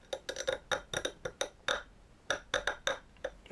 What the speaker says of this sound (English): Let's get the glass breaker in shot and try scoring it first.